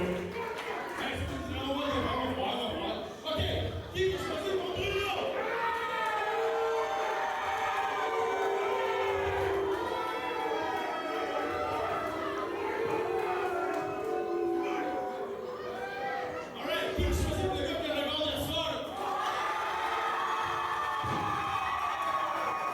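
A live crowd at a Tour de force competition event cheers and shouts for a contestant, with loud, sustained whooping and yelling voices throughout.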